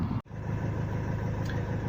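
A van engine runs steadily after its EGR valve has been cleaned, idling with a continuous low mechanical rumble that drops out briefly near the start before carrying on unbroken.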